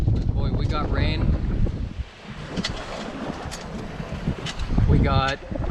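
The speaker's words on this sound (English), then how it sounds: "We got wind." Squall wind buffeting a small sailing trimaran at sea on a singlehanded passage to Hawaii, roaring steadily across the microphone, with a voice talking briefly near the start and again near the end.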